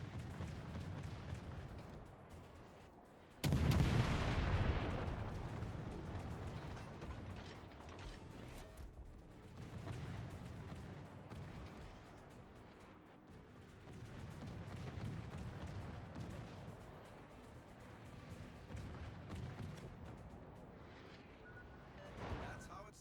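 Warship artillery fire in the naval video game World of Warships: one sharp loud gun blast, then softer mechanical rumbling and creaking game sounds that come and go at a lower level.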